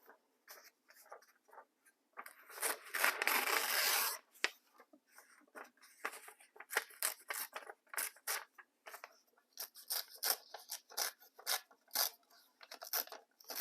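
A decorated book page is torn by hand, a loud sustained rip in the middle of the clip followed by scattered dry paper crackles and rustling.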